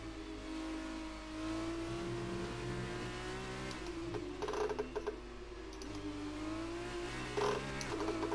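An F2 car in F1 2019 around the China circuit accelerates, its engine tone climbing through gear changes with shifting pitch, steady and moderately loud, with no talk.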